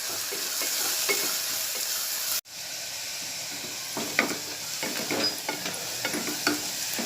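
Onions frying in oil, a loud steady close sizzle with irregular crackles and stirring scrapes, briefly cut off for a moment before resuming.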